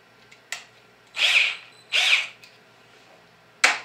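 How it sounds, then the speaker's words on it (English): A BLACK+DECKER 20V MAX LDX120C cordless 3/8-inch drill/driver whirs in three short, close, loud bursts with brief quiet gaps between them, as if starting a pilot hole slowly. "So let's drill."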